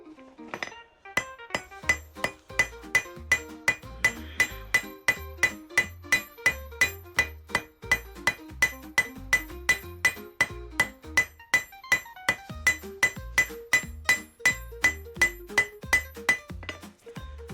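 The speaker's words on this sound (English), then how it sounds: "use a rawhide mallet on some wood" A rawhide mallet strikes forged metal rose petals resting on wood, landing in a steady run of dozens of sharp, close knocks with a faint metallic ring. The blows keep an even rhythm throughout, with no talking.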